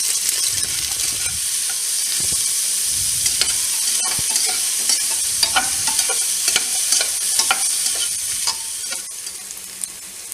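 Small shallots sautéing in ghee inside a pressure cooker with pounded spices, a steady close sizzle broken by scattered scraping stir clicks, no voices.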